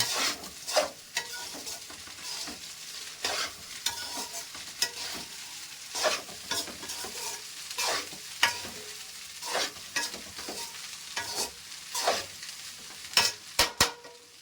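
Leftover cooked rice is stirred and reheated in a pan over a gas flame, with repeated scraping stirs and a soft sizzle, close and steady, with no talking.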